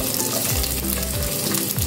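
Chopped onion sizzles steadily in hot oil in a kadai while kadai paneer is cooked, with a dense, continuous close-up crackle and no voices.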